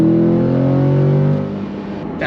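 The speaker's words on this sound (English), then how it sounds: "Big old V8" A Chevrolet C8 Corvette's big V8 revs loudly close by, a strong throaty engine note that holds and then falls away as the revs drop, with no one talking.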